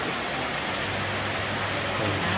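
Steady, loud rain falls during a storm, hissing evenly across the whole stretch with a faint low hum underneath, and no one talks.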